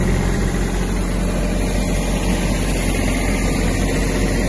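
A Kubota A-15 Japanese mini tractor runs with its PTO shaft engaged, the engine chugging in a loud, steady, rumbling drone close by throughout, with no talking.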